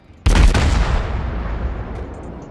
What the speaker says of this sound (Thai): โดนยิงแล้วโดนยิงแล้ว